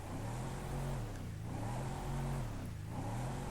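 Engine of a Mercedes-Benz G63 AMG 6x6 in the game GTA 5, a steady deep idle with low rumbling and light swells in revs, close and continuous with no talking.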